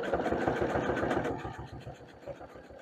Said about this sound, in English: this is a lot of layers to sew through, so just go slow and gentle with your machine